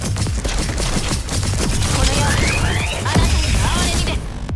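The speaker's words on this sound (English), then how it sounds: "these SFX make it feel like the arrows are flying so fast" Rapid arrow shots in the video game Punishing: Gray Raven whoosh and thud in a dense, continuous barrage, with layered impacts and swishing sounds throughout.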